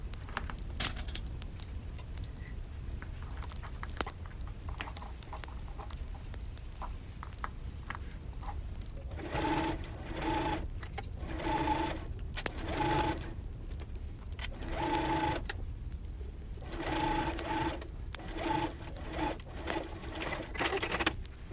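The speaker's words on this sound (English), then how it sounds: "And then I'm just going to stitch along the side." A sewing machine stitches the side seam of a pleated skirt in several short bursts of rapid mechanical whirring with pauses between them, quiet and close, with no talking.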